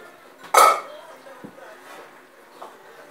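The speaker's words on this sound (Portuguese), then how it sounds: "Vou botar tudo aqui na mesa, essa panela." A cooking pot from a wood-fired stove is set down on the lunch table, making one loud metallic clank with a brief rattle, followed by quieter small knocks of dishes and cutlery.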